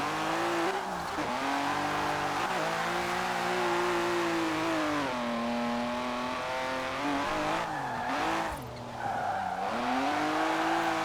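A BMW E34 M5 drift build in Forza Horizon 4 revs and slides. Engine pitch rises and falls through gear changes while tires squeal and skid under the steady, loud engine note.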